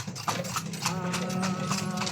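Horse hooves clip-clop in a steady, fairly close rhythm along a street in Ilocos, with faint background talk and ambient bustle underneath.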